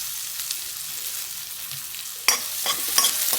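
Onion frying with asafoetida, cumin and mustard seeds in a pan, a continuous soft sizzle with a sharper burst of crackling and stirring scrapes near the end, close up and without talk.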